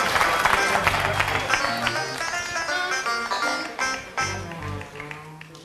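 A theatre audience applauds the actors with loud, dense, continuous clapping and some crowd noise, sustained throughout and slowly easing off near the end.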